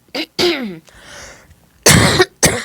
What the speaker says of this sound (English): So I'm still coughing.